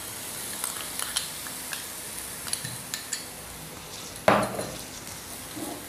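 Coconut laddu mixture stirred in a pan: light, scattered spoon taps and scrapes against metal at an even pace over a low background hiss, with one sharper clatter partway through.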